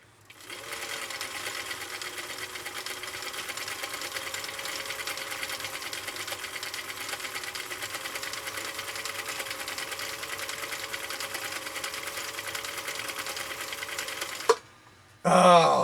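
A restored Husqvarna Viking CI 21A sewing machine stitches a cam C decorative pattern, a loud, steady, rapid mechanical whir that runs unbroken for about fourteen seconds before stopping, followed by a brief clunk.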